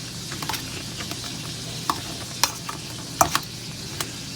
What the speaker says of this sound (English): So right here, we will continue mashing our potatoes.